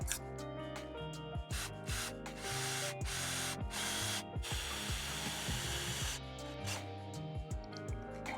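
2.5-inch deck screws driven into wood pilot holes of a wooden raised garden bed, a close power-driver whir rising and falling in several bursts with brief pauses between screws.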